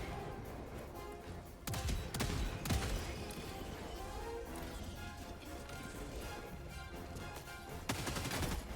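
Heavy autocannon fire in Helldivers 2 during a snowy mission, loud thudding shots in clusters over a noisy battle background, with another burst at the end.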